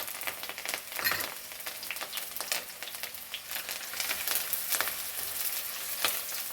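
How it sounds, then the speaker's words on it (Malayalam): Garlic, ginger and curry leaves sauté in a pan with a steady close sizzle and crackle, spiked by sharper pops, and no voices. "നമ്മൾ വെളുത്തുള്ളി ഇഞ്ചിയൊക്കെ വഴന്നേ."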